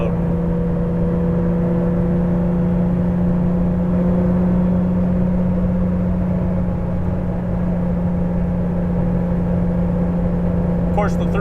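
A 1983 Porsche 911 Safari driving off-road gives a steady, close engine drone with a low hum and rumbling road noise that hold evenly throughout, with no clear revving.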